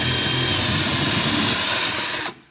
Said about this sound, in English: You want to kind of get it started before you crank up the drill bit.